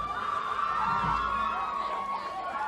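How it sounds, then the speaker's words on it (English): High school football cheerleaders rally the home-side crowd, with distant chanting voices and cheering from the stands ringing out over a steady murmur. "And the Amity cheerleaders pepping up the crowd on the home side."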